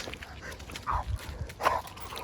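Arlo, a German Pointer and former hunting dog, gives a couple of short, close yips or barks over a faint background rustle.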